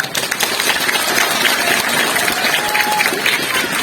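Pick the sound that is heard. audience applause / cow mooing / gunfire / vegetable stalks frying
audience applause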